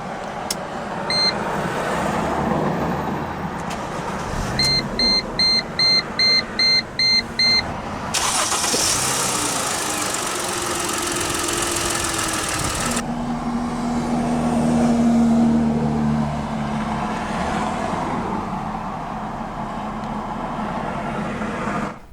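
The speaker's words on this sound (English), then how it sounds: "let's go ahead and start the engine." A 2009 Mercedes-Benz SLK 350 roadster's V6 starts after a run of chime beeps, the starter cranking into a sharp rev flare before settling into a steady, smooth idle heard close up.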